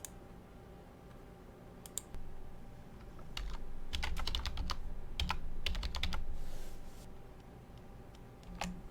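A password is typed on a computer keyboard: quiet, close clusters of crisp key clicks that come in short bursts and brief pauses, heaviest in the middle.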